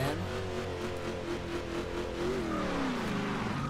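A car engine in the Forza Horizon 2 racing game on Xbox One, a steady loud drone with rising and falling rev tones throughout, heard alone without talk.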